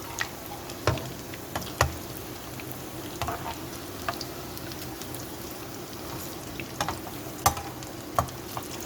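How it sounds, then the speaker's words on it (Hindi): Potato cheese balls shallow frying in a pan, a steady soft sizzle broken by scattered sharp pops and crackles, close and moderately quiet with no talking. "मैं शैलो फ्राई कर रही हूँ।"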